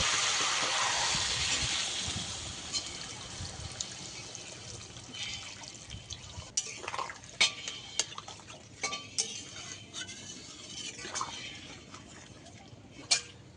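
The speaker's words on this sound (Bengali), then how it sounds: "সব কিছু ভালোভাবে কষিয়ে নিয়েছি, জল দিয়ে দেবো।" Water is poured into a pan of fried, spiced hilsa fish curry with taro, a loud rushing pour at first that fades into light bubbling, with sharp clinks of a utensil against the pan.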